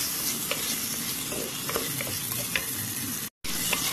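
Sliced tomato and onions frying in a pan while being stirred, a continuous close sizzle broken by scraping spatula strokes and small clicks, with a brief dropout near the end.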